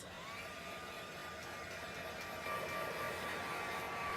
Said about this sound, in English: let me dry that. Just use the heat gun.